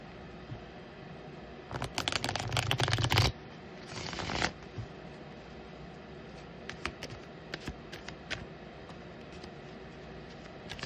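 Tarot cards being shuffled by hand, a dense riffling burst followed by a shorter second riffle, then quieter scattered card taps and handling noises, heard close with no talk.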